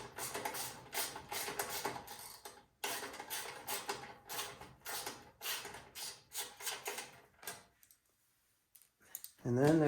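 A hand ratchet clicks in quick repeated bursts as screws and a small bolt are backed out of an MTD Yard Machine snowblower, the ratcheting close and sharp, pausing briefly before a final scrape.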